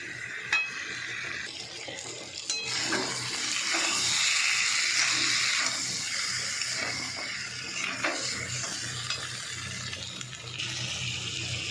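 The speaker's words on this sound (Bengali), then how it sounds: "ভালো করে 10-15 মিনিট ধরে কষিয়ে নেবো" Potatoes and ground spices sautéing in a pan, a steady, fairly quiet sizzle with occasional scrapes and clinks of stirring, and no voices.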